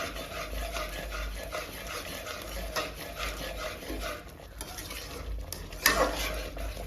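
Semolina halwa is stirred steadily in a pan, giving a soft continuous scraping and rubbing texture with a faint sizzle and occasional sharper clinks of the spoon against the pan.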